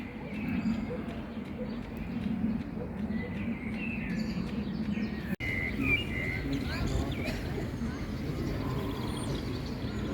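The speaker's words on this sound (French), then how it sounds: "Écoutez le chant des oiseaux." Birds chirp and sing faintly in the background over a steady outdoor murmur on the seaside promenade in Varna, Bulgaria, with occasional brief calls scattered throughout.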